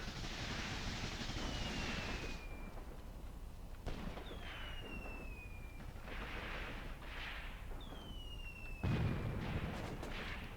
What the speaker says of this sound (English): They also have a mortar here, by the sound of it.